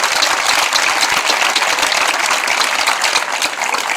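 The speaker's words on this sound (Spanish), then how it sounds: "Un aplauso para todos vosotros" Dense, steady applause fills an outdoor plaza at a Podemos political rally in San Blas-Canillejas, Madrid, with many hands clapping continuously at even loudness for the whole stretch.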